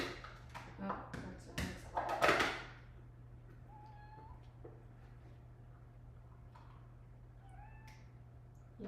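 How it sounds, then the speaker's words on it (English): Pet cat meowing indoors, a few short faint mews after a burst of other nearby sounds, over a steady low household hum. "Kitty cat!"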